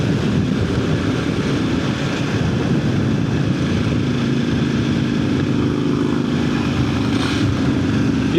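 A motorcycle with a dry clutch pulls hard on a group ride, its engine droning loud and continuous throughout, heavily mixed with wind rush.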